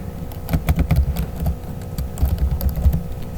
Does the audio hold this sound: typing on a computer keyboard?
yes